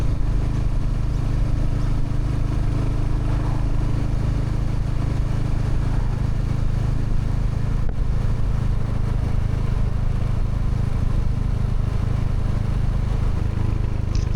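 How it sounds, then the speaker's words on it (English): The motorcycle Ruby drones on with a steady low engine rumble throughout a suburban ride, constant and unbroken, with road and wind noise blended in and no talk. "Hopefully you can hear a little bit more of the engine sound of Ruby in the quiet spaces"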